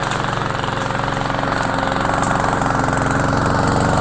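A Cub Cadet lawn mower engine runs steadily and loudly, a continuous mechanical drone with rapid pulsing throughout, with no talk over it.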